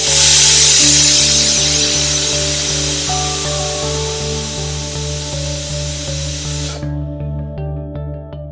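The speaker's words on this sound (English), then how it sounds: "if you see a lot of steam coming through the nozzle" Strong steady steam hiss jets from the nozzle of a pressure cooker boiling potatoes, loud at first and easing slightly, with a low constant hum beneath, then cutting off abruptly near the end.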